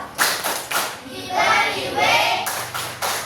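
Children in an Indonesian classroom performing a rhythmic clapping chant, sharp group claps in a patterned beat broken by a short stretch of chanted voices before the claps return.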